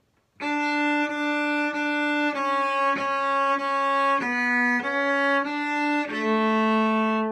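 A cello plays a French folk song melody alone, a series of sustained, bowed notes stepping downward in steady rhythm, clear and close with no talking over it.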